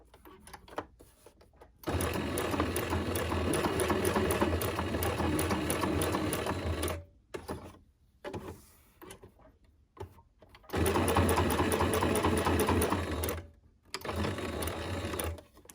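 A sewing machine stitches on paper in two long runs, a loud, close, rapid mechanical whir and clatter, separated by brief stops with handling noises and quiet pauses.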